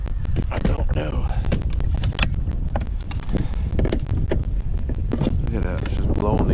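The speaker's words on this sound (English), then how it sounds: "Might be a little too windy for me." Strong wind on a very windy day out fishing buffets the microphone in a loud, constant low roar, broken by rapid gusty thumps and rattles.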